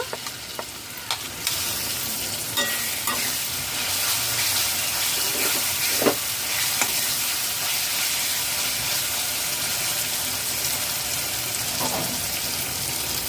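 Fried pointed gourd tumbled into a hot pan over low flame, a steady broad sizzle with stirring clatter, a few louder scrapes and knocks along the way, continuous and close throughout.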